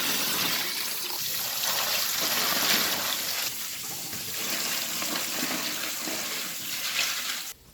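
Fresh water pours steadily into a tub, a continuous broad splashing rush that stays loud and close throughout with no voices.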